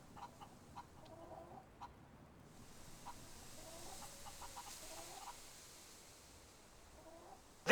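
Chicken clucking in the Fable III video game, soft repeated clucks and short calls scattered across a quiet backdrop, fairly faint and close, ending with a sudden louder burst.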